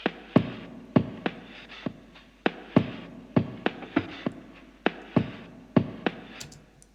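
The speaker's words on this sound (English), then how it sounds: "which is the cleaned up beat, and it sounds like this." A cleaned-up drum beat loop for a home-studio prog rock track, with crisp, evenly spaced hits in a steady groove and no crackle or pops, played alone without talk.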